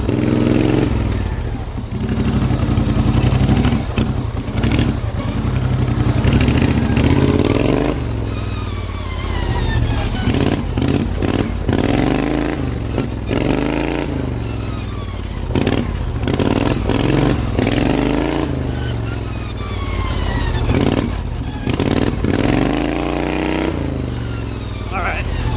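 A race lawn mower driving at high speed, its small engine buzzing loud and close, revving up and down repeatedly with clattering and scraping bursts, and a voice talking over it at times.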